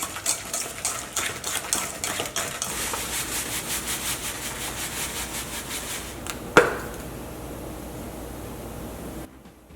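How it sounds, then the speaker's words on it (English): A fork mixing lard and vanilla extract in a bowl for cookie dough: rhythmic scraping and rubbing strokes for several seconds, then a sharp knock and a quieter, steady hiss before an abrupt cutoff, with no voice. "You can either use an electric mixer or standing mixer, or just a fork, which is how I'm doing it."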